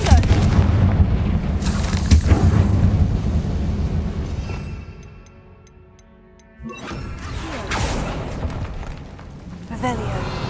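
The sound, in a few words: Confringo fire curse explosion in Hogwarts Legacy video game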